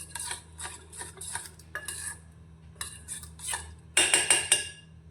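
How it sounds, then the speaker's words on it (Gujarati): Semolina being mixed with water in a small bowl, heard as repeated bursts of a spoon scraping and clinking against the bowl, loudest near the end, over a steady low hum. "રવાને મિક્સ કરી લઈશું"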